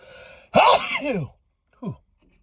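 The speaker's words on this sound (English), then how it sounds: "I'm going to sneeze here." A single sharp sneeze bursts out close and loud, followed by a short breathy sniff, then quiet.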